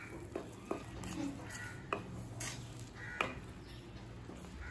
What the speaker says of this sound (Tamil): கடாயில் தேவையான அளவு எண்ணெய். இப்போ இது கூடவே மூணு முட்டை அடித்து சேர்த்துக்கலாங்க.